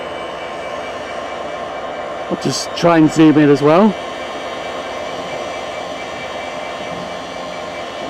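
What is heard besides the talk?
Class 66 locomotive 66702 at Barnetby station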